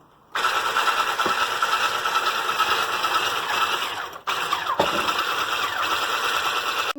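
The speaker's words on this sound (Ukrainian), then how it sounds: "перемішали наші рідкі інгредієнти" Electric hand mixer whirring steadily as it blends liquid cake batter ingredients, oil and milk, in a bowl; loud continuous motor hum starting abruptly, with a brief pause midway before resuming.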